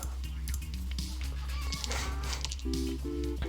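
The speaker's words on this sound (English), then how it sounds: "Alright, we have a chicken now." Chicken clucking in the video game Luck be a Landlord, short repeated clucks over a steady low background hum and game music.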